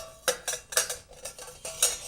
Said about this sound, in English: And you stir up a little bit